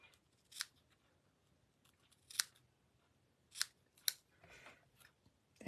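Scissors cutting card while making a greeting card: quiet, sharp snips, four or five separate cuts spread across a few seconds in a still room.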